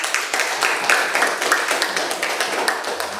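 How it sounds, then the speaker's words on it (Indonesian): A junior high classroom of students claps for a group presentation, a loose, moderately loud patter of hand claps that carries on steadily for a few seconds. "Ya, terima kasih, tepuk tangan."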